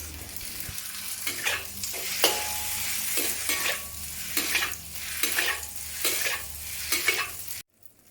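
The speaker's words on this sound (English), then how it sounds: "Fry the noodles over medium to high heat with some oil." Rice noodles fry in oil in a wok over medium to high heat, giving a continuous sizzle broken by regular scraping stirs and tosses, close and fairly loud.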